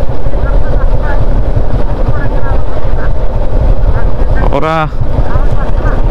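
A motorcycle rides along the remote Rajasthali–Farua border road near the Mizoram frontier, its engine and wind rush forming a loud, steady roar throughout, with voices talking over it.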